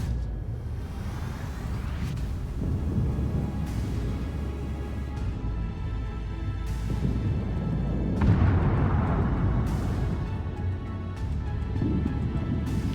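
Naval gunfire from a battleship in World of Warships, a game with wildly dispersed shots, rumbling as a steady low roar with several heavy booming salvos spread across the stretch, loud and continuous with no talk.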